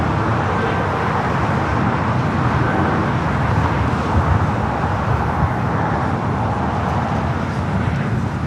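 An Airbus A220-300 of Breeze Airways takes off at LAX, a steady, loud broadband jet roar with deep rumble that holds evenly throughout, blending with airport and road traffic noise.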